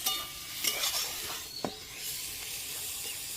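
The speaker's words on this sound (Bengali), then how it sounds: "দেখো বন্ধুরা ভাজা হয়ে আসছে। এভাবে করে ভেঙে ভেঙে নেবো খুন্তি দিয়ে।" Taro stems with coconut sizzle in a pan as a spatula breaks them up, steady frying hiss with scraping strokes and a sharp metallic clack midway, close and fairly loud, no voices.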